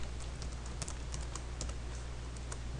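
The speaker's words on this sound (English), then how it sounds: "And I'm going to type in my serial port." Keys on a computer keyboard tapped in quick, uneven bursts while entering settings into radio-control software, the soft clicks sitting close over a steady low hum.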